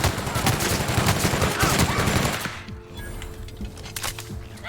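Dense bursts of automatic gunfire from The Outer Worlds video game, loud and rapid for a couple of seconds, then giving way to quieter scattered shots and game ambience.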